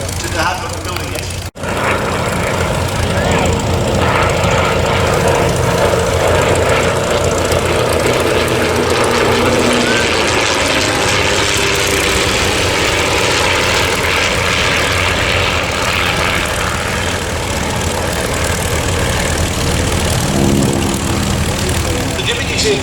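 A vintage propeller aeroplane, the small white Percival Mew Gull registration G-AEXF, flies at an air show beside a Comet, its loud steady engine drone filling the air throughout while a commentator talks over it.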